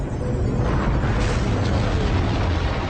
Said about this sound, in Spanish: La ambición humana se embarcó a bordo de los cohetes más potentes jamás construidos.